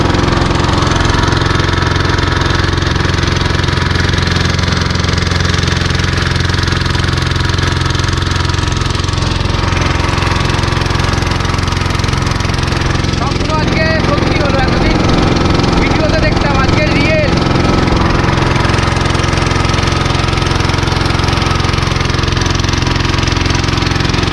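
A steady, loud motor drones on a passenger boat on the river to Omkareshwar, a constant low rumble with an idling, mower-like chug running unbroken throughout.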